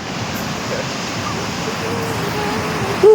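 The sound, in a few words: sea waves on the beach at Morong, Bataan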